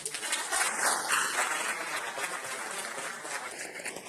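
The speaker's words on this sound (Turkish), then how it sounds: "Onlara hep beraber alkışlayın" A crowd at a political party rally in Malatya applauds the party workers, a dense continuous wash of clapping heard from within the audience, steady and fairly loud for several seconds.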